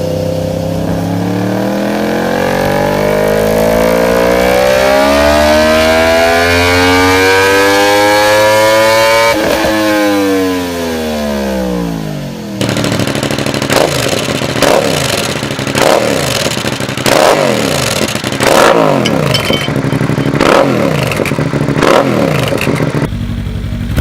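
A sportsbike fitted with an aftermarket exhaust revs close and loud, its engine note sweeping up and down repeatedly before it settles into sharp, rapid blips and crackles.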